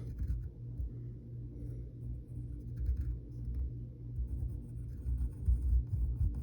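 A pencil drawing lines on paper, close up, soft scratchy strokes that come and go in short bursts over a low background hum.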